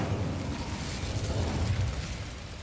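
Incendio fire spell cast in a Harry Potter video game, a sustained fiery whoosh and rumble with a dense roar that holds steady throughout, loud and close, with no talking.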